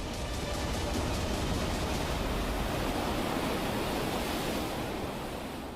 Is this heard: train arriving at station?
no